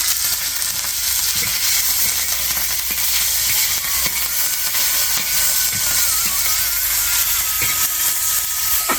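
Chilies and spices fry in hot oil in a home kitchen, a loud, steady, dense sizzle and hiss that runs without a break, with faint occasional pops and no talking.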